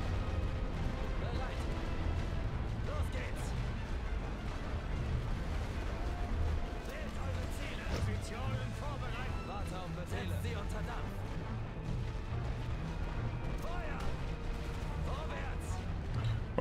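Artillery fire in the World War I game The Great War: Western Front, a dense barrage of repeated booms and sharp cracks over a continuous rumbling background with no clear pauses.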